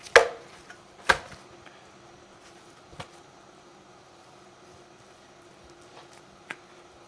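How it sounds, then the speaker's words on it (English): Knife cutting through a chicken breast on a board to make thin fillets, a few sharp taps of the blade hitting the board, spaced irregularly with quiet stretches between. "You want to take your knife and run it as close as you can to the center, which gives you 2 thin fillets."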